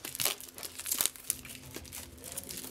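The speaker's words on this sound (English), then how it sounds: "Take the plastic off." Plastic wrapping being torn and crinkled off a TP-Link WN881ND WiFi card box, a run of sharp, close crackling and tearing bursts, louder near the start and tapering to lighter crinkles.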